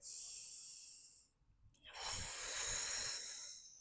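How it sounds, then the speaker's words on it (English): Deep, slow relaxing breaths during a lower-body floor stretch, a long airy exhale, a brief pause, then a fuller breath close to the microphone. "we take 2 to 3 big relaxing breaths here"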